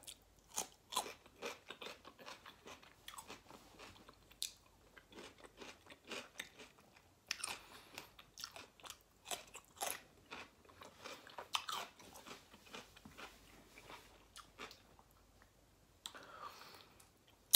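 Close-up crunching and chewing of fresh cucumber, a quick series of crisp bites and wet mastication clicks, faint and alone with brief pauses.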